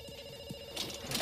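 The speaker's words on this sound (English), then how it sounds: "we pick up the phone because it's ringing" A telephone bell rings in a short burst, clear and moderately close, with no talk over it.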